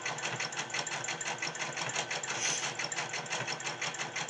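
A sewing machine zigzag stitching the fabric ends of a gift bag, running continuously with a fast, even mechanical rattle, close and loud throughout.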